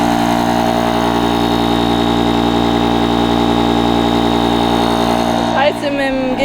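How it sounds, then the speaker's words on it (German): A steady, loud motorized hum drones on without a break from an electric air pump inflating a roof tent, then shifts abruptly near the end as it switches to compressor mode. "Jetzt geht's in den Kompressormodus und jetzt baut sich der letzte Druck auf"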